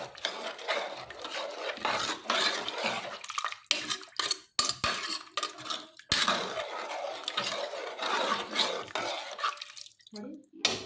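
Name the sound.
stirring dill leaf khichdi after adding water in pot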